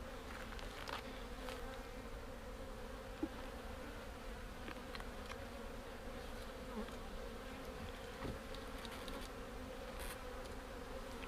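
Agitated honeybees swarm around an opened hive at an apiary, a dense, continuous buzzing hum that stays steady and fairly close throughout, with no voices.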